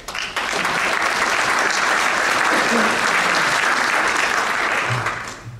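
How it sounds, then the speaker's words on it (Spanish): An audience at a book presentation in a formal ceremony breaks into loud, sustained applause that swells quickly, holds steady for several seconds and then tapers off. "para quien pido un fuerte aplauso"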